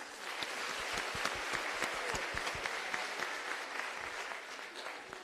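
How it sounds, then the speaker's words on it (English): An audience at a Child Protection Week launch claps for a mother, giving a steady round of close, crisp applause that lasts throughout without any speech. "let's clap for that mother"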